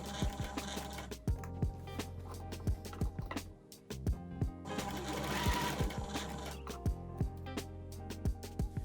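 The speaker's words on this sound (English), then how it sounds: "Sew the waistband to the skirt with a 1 cm seam allowance." A sewing machine stitches a waistband to a skirt in short rhythmic bursts of rapid clatter, close and fairly quiet, with brief pauses between runs.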